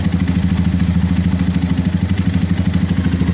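A Honda CBF 125 motorcycle idles at its first start-up, a steady, loud single-cylinder putter with an even, rapid thumping rhythm and a light mechanical clatter.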